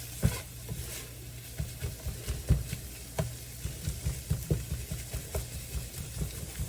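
Corned beef being broken down and beaten in a warm pot on the stove: a soft sizzle under repeated knocks and scrapes of a utensil against the pot, an irregular close-up tapping rhythm, no voices.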